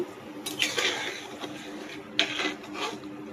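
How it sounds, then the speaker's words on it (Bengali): A lid goes onto a pot of rice cooking on the stove, giving two brief scraping, rasping clatters a moment apart, close and moderately loud with no talking. "ঢাকনা দিয়ে ঢেকে দিচ্ছি তো হতে থাকুক"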